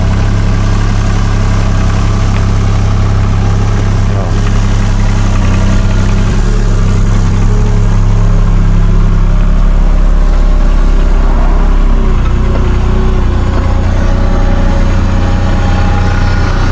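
Engine of an excavator idling on a work site, a loud, steady, close rumble with heavy low-end vibration that holds evenly throughout.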